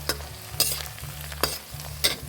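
Small freshwater fish (pla siew) fry in hot oil, giving a continuous crackling sizzle, with four sharp stirring scrapes of a utensil in the pan, close and without speech.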